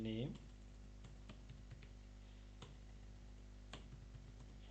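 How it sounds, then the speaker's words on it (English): Someone types HTML on a computer keyboard, producing scattered, fairly faint key clicks at an uneven pace over a low steady hum. "after that I'm going to type my HTML in normal way"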